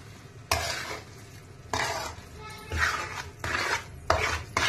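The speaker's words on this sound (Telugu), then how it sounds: "కొద్దిగా కొత్తిమీర చల్లేసి ఒక 2 సార్లు అలా కిందికి పైకి కలిపేస్తాను." A spoon stirs curry in a sizzling pan after coriander leaves are sprinkled in, with about five separate scraping strokes over a soft steady frying hiss, close up.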